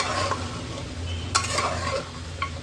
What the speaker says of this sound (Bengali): আলুগুলো দিয়ে একটু নাড়াচাড়া করতে হবে, যাতে আলুটার মধ্যেও মশলাটা সুন্দর করে মিশে যায়।